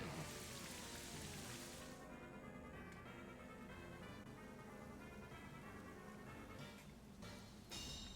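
Rain weather in the video game Pokemon Scarlet patters steadily as a soft, even hiss of falling drops, faint and unbroken, with no other sounds.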